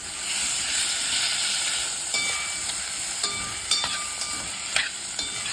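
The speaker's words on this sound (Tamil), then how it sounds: "இப்போ எல்லாத்தையும் போட்டு வதக்கணும்." Beans, carrots, broad beans, potatoes and green peas sautéing for vegetable biryani, a bright constant sizzle with intermittent clinks and scrapes of a spoon stirring, close and unaccompanied by speech.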